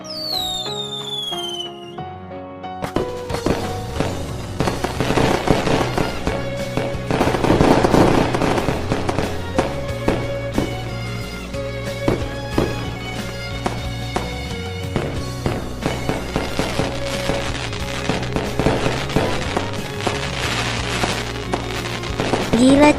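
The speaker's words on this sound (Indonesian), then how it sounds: "Akhirnya nyala juga nih kembang api." New Year fireworks in the Sakura School Simulator game: after a few whistling rockets, a long dense barrage of crackling, rapid bangs runs on loudly with music-like tones underneath.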